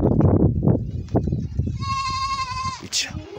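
Goats on a farm in Kenya bleat loudly and close by, one long wavering bleat standing out over rustling, with a person talking in the background.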